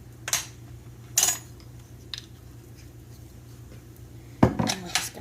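A utensil stirring sauce made with coconut aminos in a pan for a beef and veggie stir fry, giving a few sharp clinks and scrapes against the pan over quiet background.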